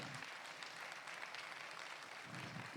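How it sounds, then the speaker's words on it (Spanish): A church congregation applauds, giving praise together as a steady broadband wash of clapping at moderate distance that holds evenly throughout. "Dele ese aplauso al Señor."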